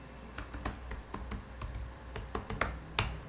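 Typing on a computer keyboard while entering editor commands, heard as a quick run of sharp, close key clicks in an irregular rhythm, alone and with no talking.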